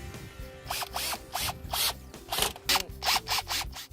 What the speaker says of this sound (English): Now you just need to drill the fabric into the windshield channel.